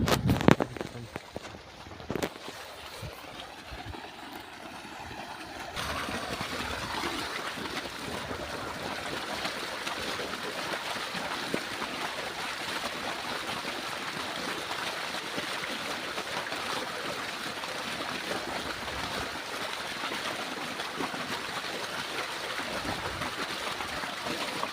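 Water runs steadily at an outdoor drinking-water spot, a continuous close trickling rush that fills the scene after a few brief knocks and rustles at the start.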